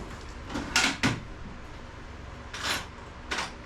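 A small drawer in a garage workspace slides open and shut in a few brief scraping, rattling bursts, two close together and then two more after a short gap.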